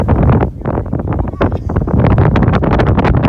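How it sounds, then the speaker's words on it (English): Strong wind roars and buffets the microphone continuously at a Colorado campsite, loud and close, with no voices. "it was also super windy, and here you can see how strong the winds were"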